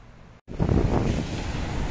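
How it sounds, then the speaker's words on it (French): Strong wind buffets the microphone over rough Mediterranean waves breaking on the rocky cliff coast near Calpe, Alicante, a loud steady roar after a brief dropout. "Aujourd'hui, c'est vraiment venteux. La Méditerranée a des vagues comme l'océan."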